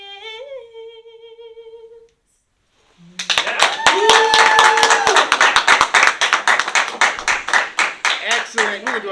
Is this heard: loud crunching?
no